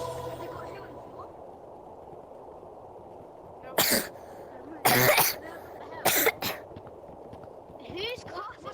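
Several short, sharp coughs sound from a person nearby during an outdoor game of ghost in the graveyard, spaced apart over faint background noise with a little talking.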